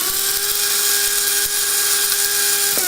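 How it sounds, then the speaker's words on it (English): Electric grinder whirring coffee beans down to a fine powder: a loud, continuous high-pitched motor whine held steady for about three seconds, close up, cutting off abruptly at the end with no voices. "Grind it up to a nice fine powder."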